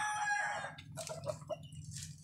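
A fighting rooster crows in one long call followed by shorter clucks and cackles, close and clear.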